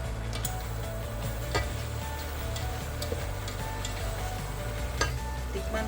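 Bitter gourd dish boiling in a pan, a steady low bubbling simmer with faint ticks and pops running continuously, no talk over it.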